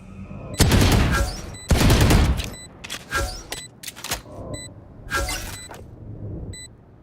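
Gunfire in the tactical shooter Valorant during a round, with two loud sustained bursts and then scattered shorter volleys and single shots, close and punchy.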